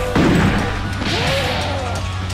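A loud crash and thud from smashing things in a co-op match of Doom, one heavy impact followed by a rattling, ringing tail that lingers over a low hum.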